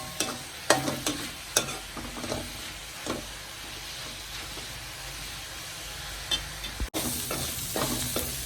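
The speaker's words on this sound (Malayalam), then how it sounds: "നന്നായിട്ട് വഴറ്റിയെടുക്കണം അഞ്ച് പച്ചമുളക് അരിഞ്ഞത് ഇട്ട് കൊടുക്കാം" Chopped green chillies sautéing in a pan for rajma dal curry make a steady close sizzle. Sharp spoon clacks and stirring scrapes come at irregular intervals, with no talking.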